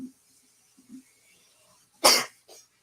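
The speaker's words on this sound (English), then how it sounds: "Oh, I got to sneeze." A few quiet breaths, then one loud, abrupt sneeze close to the mic, followed by a small second burst.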